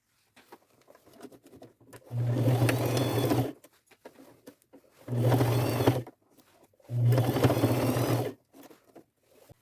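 A sewing machine stitches around a handmade bag seam made from upcycled materials in three steady bursts, each a couple of seconds long, with quiet handling noises between runs; no talking.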